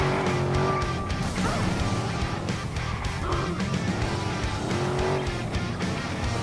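A car in the video game Watch Dogs roars along with engine drone, tire squeals and skids, and a few crash-like impacts, all continuous and fairly loud with no talk.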